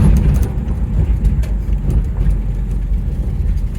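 A 1960 Ford Thunderbird engine rumbles loud and close, choking and stumbling as it accelerates, with a rough low drone running throughout.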